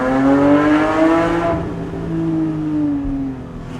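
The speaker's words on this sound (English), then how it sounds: "That was more throttle, and it sounded glorious." A Porsche GT3 engine revs hard under throttle with a rising harmonic wail, then drops and climbs again in a second shorter rev, loud and close with no talking.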